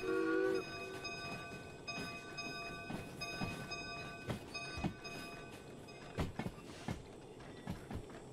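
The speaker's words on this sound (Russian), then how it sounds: "Это сброс пара." Steam locomotive in the Derail Valley simulator venting steam in a steady broad hiss, with mechanical clanks and knocks scattered throughout and a brief whistle-like tone at the start.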